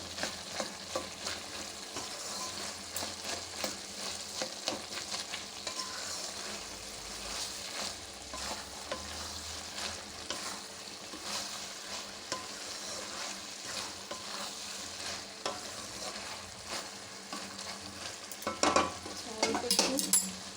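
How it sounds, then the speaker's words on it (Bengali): Boiled mixed vegetables for a Bengali chorchori get stirred with a spatula in a pan, a soft continuous sizzle under irregular scraping and clinking strokes, with a louder clatter near the end. "সবজিগুলো সিদ্ধ হয়ে গেছে, এবার একটু খুঁটি দিয়ে আমি একটু ঘেটে ঘেটে দেবো।"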